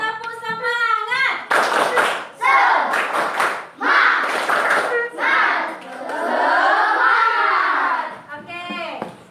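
A primary school class claps out a rhythmic spirit cheer in bursts, children's voices chanting between loud, patterned clapping sections, with an adult voice speaking at the start and end.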